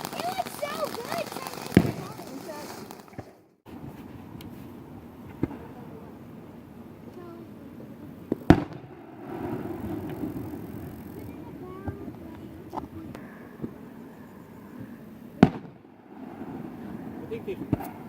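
Fireworks launched by a neighbouring crowd at dusk, sounding as several sharp, separate bangs spread across the stretch, some distant and one louder and nearer, over a steady outdoor murmur of wind and chatter.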